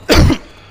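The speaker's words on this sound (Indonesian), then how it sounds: "Sorry batuk." One sharp, close cough bursts out and fades quickly inside a Hyundai Creta Prime IVT cabin, with no speech around it.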